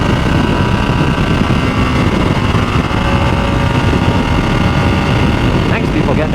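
A Ducati Streetfighter V2 with about 150 horsepower rides through freeway traffic, its engine a loud, steady drone with constant wind rumble throughout.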